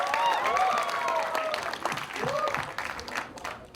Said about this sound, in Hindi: कम ऑन गाइस, जोरदार ताली होनी चाहिए।